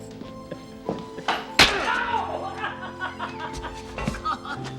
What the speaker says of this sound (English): He grabs Del's hand in a rage and snaps his fingers, breaking them with a sickening crunch.